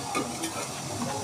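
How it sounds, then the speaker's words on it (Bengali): Cold water trickles slowly into a pot of boiling syrup holding nolen gur rasgulla, giving a soft, steady hiss and sizzle with faint bubbling throughout. "এইভাবে আস্তে আস্তে করে একটু ঠান্ডা জল দেব"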